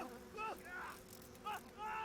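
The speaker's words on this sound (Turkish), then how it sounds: "Sinekler geliyor. Cırcır böceği mi lan yoksa bunlar?" Flies buzz in the horror game Outlast 2, short whining drones rising and falling in a few close bursts, faint and alone.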